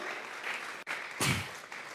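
A church congregation applauding: steady, faint clapping from many hands, broken by one sharp loud burst near the middle.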